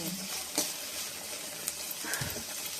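Boiled cluster beans frying in a pan with curry leaves, a soft continuous sizzle with occasional stirring scrapes and clicks, close and fairly quiet.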